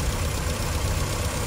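A Land Rover engine idles at a steady, even rumble, a continuous low drone that stays level and close throughout with no voices.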